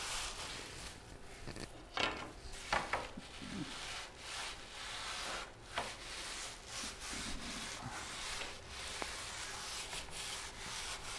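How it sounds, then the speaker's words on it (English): Wooden frame molding burnished by hand with a bundle of wood shavings, producing steady dry rubbing and scraping strokes with a few sharper scuffs, close and continuous. "As with every molding, burnish with shavings."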